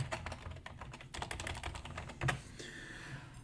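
Rapid clatter of keys on a computer keyboard as a command is typed, a burst of quick taps and then a single heavier keystroke, close and fairly quiet with no voices.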